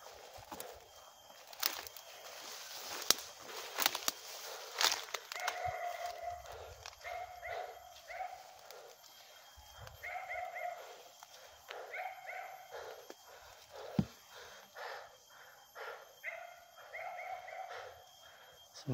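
A dog outdoors on a mountain trail breaks into bursts of repeated barking at moderate distance, with footsteps and rustling between the barks.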